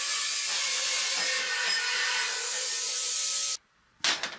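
A handheld plasma cutter running at 25 to 30 amps cuts a slot into 3 mm steel pipe with a loud, steady, broadband hiss for about three and a half seconds. The hiss stops abruptly, then a short final burst of cutting follows.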